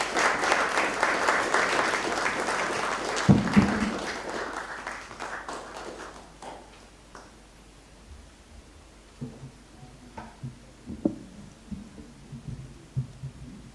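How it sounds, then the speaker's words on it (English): An audience at a commemorative Malcolm X lecture claps to welcome Reverend Kobe Little. The applause is dense and loud at first, fades over several seconds, and gives way to faint rustling and scattered thumps near the microphone. "Please give him a round of applause."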